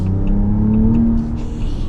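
A 2026 Ram RHO truck engine revs loudly and close, a deep steady rumble with a rising drone through the whole stretch and no talking over it.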